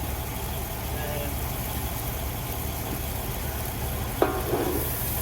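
Smash burgers sizzle on a griddle with a steady, dense hiss that stays loud and unbroken, interrupted once by a brief metallic clink.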